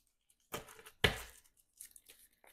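Encounter cards for a Marvel Champions Spider-Man versus Sandman scenario being shuffled, with two quick riffling bursts of card flutter followed by faint scattered clicks and taps, close and quiet with no talking.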